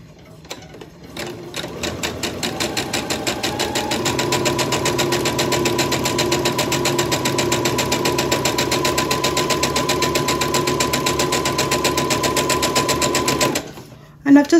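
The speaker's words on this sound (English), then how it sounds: "And now I'm going to sew them with a 1/4 inch seam allowance." A sewing machine runs steadily, stitching quilt block pieces with a quarter-inch seam for a rail fence block, a loud continuous mechanical whir that holds for about thirteen seconds before stopping.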